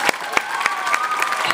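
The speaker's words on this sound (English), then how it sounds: "a big round of applause to them again" An audience at a premiere performance event applauds West Sussex music artists, with a few sharp claps standing out over a light, scattered patter and crowd murmur.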